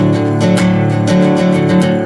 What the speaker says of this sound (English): That's how it sounds, just strumming the open strings in this tuning.